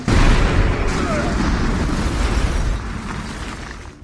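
A loud, booming explosion goes off in a film scene the moment a phone is answered, a heavy blast with rumbling debris that slowly decays, with a voice speaking over it.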